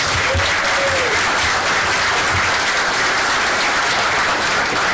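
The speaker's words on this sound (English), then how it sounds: "Let's give them a round of applause." Steady, dense applause from a crowd at a political victory event fills the whole stretch, loud and continuous without a break.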